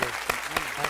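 Audience applause at a tribute ceremony honoring veterans, a steady wash of many hands clapping with a few sharper bursts, close and continuous throughout.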